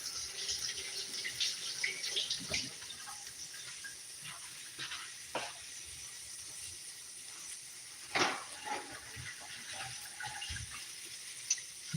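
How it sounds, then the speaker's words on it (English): A hand rinsed under a running tap, with a steady hissing flow of water into a sink and brief splashy surges, close and moderately loud, with no talking. "Rinse my hand."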